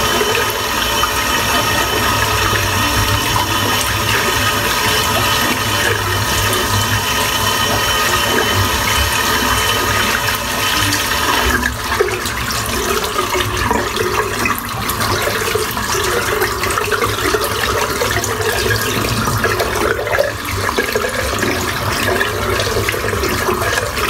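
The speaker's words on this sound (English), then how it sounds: "I'm going to rinse the soap off." Water runs steadily and loudly from a tap as shaving soap is rinsed off a shaved head, a continuous close splashing rush with no talking.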